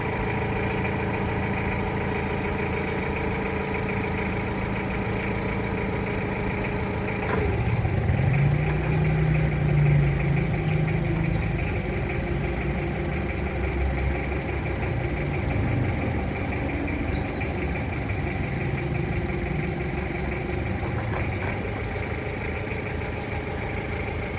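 A Komatsu FD30T-14 forklift engine idles with a low rumbling drone, rising briefly louder partway through before settling back to an even hum, with no voices.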